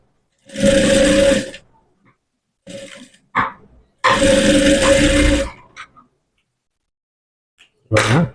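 Sewing machine stitching piping onto a blouse, running in two long loud bursts with shorter runs and brief pauses between them, steady mechanical whirring alone without talk.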